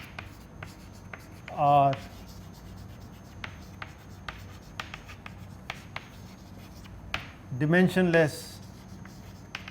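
Marker or chalk writing on a lecture board during a lecture on similitude and modeling, with soft scratchy strokes and light taps between two short bursts of a lecturer's speech.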